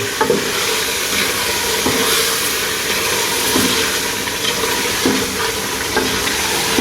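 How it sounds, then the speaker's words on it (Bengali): Spices going into frying chicken biryani raise a loud, dense sizzle with soft periodic stirring knocks, close by and without any voices. "মশলাগুলো অ্যাড করতেছি"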